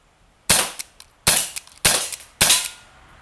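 Four sharp, evenly spaced cracks from a 2-joule P11 airsoft pistol fired at targets, each snappy report followed by a faint pellet tick on impact, loud and close with no talking.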